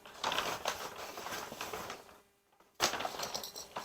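A knitting project bag rustles and crinkles close by in a steady run of papery, scratchy noise, stopping briefly for about half a second before a fresh burst of handling resumes.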